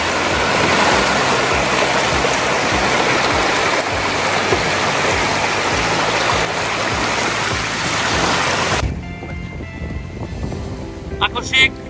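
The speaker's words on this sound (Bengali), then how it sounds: "লেকের যে ঢেউটা হচ্ছে এটা বাতাসের কারণে হচ্ছে।" Wind-driven waves wash across Mare aux Vacoas, an artificial lake in Mauritius, as a loud, continuous rush of water and wind that drops away abruptly near the end, leaving quieter ambience.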